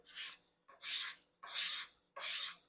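A hand scraper rasps across wood grain in a small localized spot, four even strokes in a steady rhythm, close and fairly quiet with short pauses between passes.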